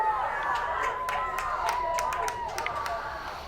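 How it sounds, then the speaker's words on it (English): A crowd at a varsity girls' field hockey game cheers and shouts after a goal, a steady roar of voices with scattered whoops and claps throughout. "As their cheering section, along with the rest of the crowd, goes crazy"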